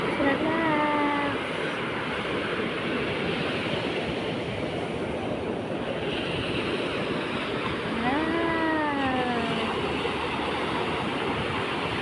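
Ocean waves wash steadily onto a beach as a broad, continuous surge, with voices talking over the water now and then.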